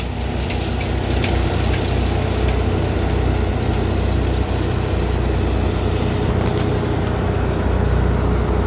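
A heavily loaded Volvo FH16 truck carrying about 48 tons pulls forward through a tight bend, its deep diesel engine droning steadily and loudly throughout, with a faint hiss like air brakes high above the rumble.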